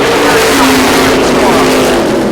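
Sportsman race cars roar around the oval at Lancaster Motorplex, engines loud and steady in a continuous close pass, with a race announcer talking over the noise.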